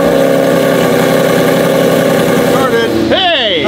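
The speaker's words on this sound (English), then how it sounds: "Cold start on the Mercy." A Mercedes car engine turns over on a cold start and settles into a loud, steady idle close by, with a rising whine near the end.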